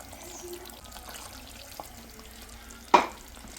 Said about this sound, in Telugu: ఇప్పుడైతే వాటర్ వేసేసుకుంటున్నాను